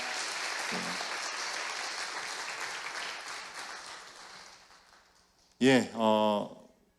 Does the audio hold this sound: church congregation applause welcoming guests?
yes